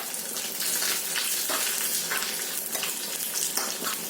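Curry leaves crackle and sizzle loudly in hot oil over browned onions, a dense, steady spitting hiss that runs unbroken throughout with no voices.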